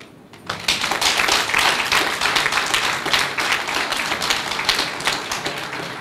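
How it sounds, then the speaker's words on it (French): After a brief quiet moment, an audience in Benin breaks into brisk, sustained applause for the president, a dense crackle of many clapping hands at an awards night for garage mechanics, lasting steadily to the end. "dire d'applaudir le président Patrice Talon"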